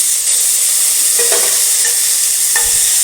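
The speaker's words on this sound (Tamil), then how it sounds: "இப்போ நம்ம தக்காளி போட்டுக்கலாம்." Tomatoes added to softened onions for a bitter gourd fry, sautéing in a hot pan with a loud, steady sizzle and occasional scraping stirs up close.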